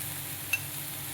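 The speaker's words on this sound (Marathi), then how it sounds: "मस्त असा खरपूस तळून घेऊया." Ridge gourd frying on an iron griddle, a faint, steady sizzle close by with one tiny tick partway through.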